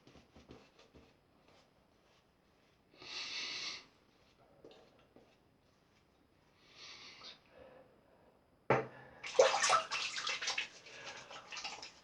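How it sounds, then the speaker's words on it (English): Shaving soap being rinsed off hands under running water, a couple of short splashing bursts and then a louder, sustained rush of water near the end, close by with no talking. "just washing that off my hands, let me tell you, this soap is super slick"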